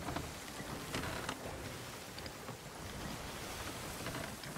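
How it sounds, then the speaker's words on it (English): Steady rain in the Sea of Thieves pirate video game, a soft continuous hiss of falling drops with an ocean wash beneath, even and fairly quiet throughout with no voices. "Okay, we just got rain."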